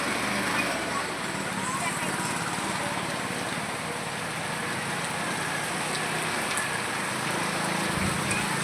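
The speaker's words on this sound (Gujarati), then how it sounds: "ફૂલ વરસાદ પડ્યો મિત્રો અહીં બાંબરોલી ગામમાં." Heavy rain pours down steadily in Bambroli village, a dense continuous wash of patter close by, with a person talking over it.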